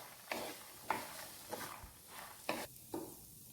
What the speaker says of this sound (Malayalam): ഇതിലേക്ക് നമുക്ക് വെന്ത ചെറുപയറും കൂടി ഇട്ട് കൊടുക്കാം. ചെറുപയറിന് പകരം വൻപയർ ഇതേ അളവിലെടുത്താലും കുഴപ്പമില്ല. നന്നായിട്ട് ഇതൊന്ന് യോജിപ്പിക്കാം.